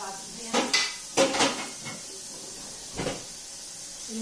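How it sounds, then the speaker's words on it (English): Metal lid set onto a pot of hot broth in a home kitchen, giving a few close clanks and rattles in quick clusters, then a lighter clink, with faint steamy hiss in the background. "I need to get a lid on that pot."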